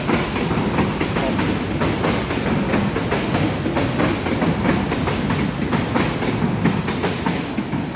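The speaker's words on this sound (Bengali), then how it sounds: "ট্রেন যাচ্ছে।" A train rolls past nearby with a loud, continuous rumble and rhythmic clickety-clack of wheels on rails, holding steady throughout without any voices.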